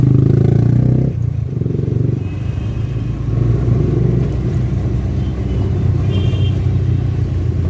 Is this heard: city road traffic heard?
yes